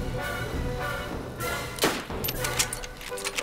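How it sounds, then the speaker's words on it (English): Gunshots in the survival video game DayZ, a few sharp distant cracks scattered over a few seconds, heard under people talking. "They're shooting at us."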